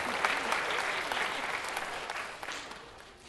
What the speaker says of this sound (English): And we shall give them applause.